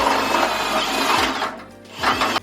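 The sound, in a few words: step drill bit drilling a hole in a cabinet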